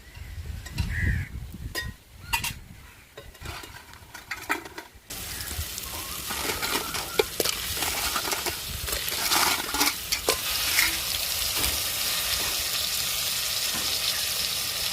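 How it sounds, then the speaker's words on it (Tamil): Crab tipped into a hot pan for a crab gravy, sizzling steadily while a spoon stirs and scrapes, with crows cawing faintly outdoors in the background. "நம்ம நண்டை சேர்த்துக்கிறோம்"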